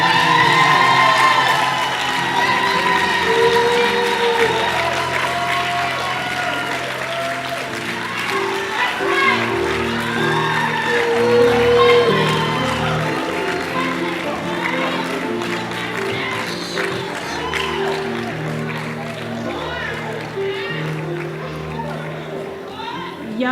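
Audience at an arts showcase clapping and cheering steadily throughout, with scattered whoops and crowd noise layered under music and talk.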